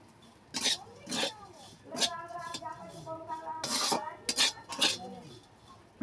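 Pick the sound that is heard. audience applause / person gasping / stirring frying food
stirring frying food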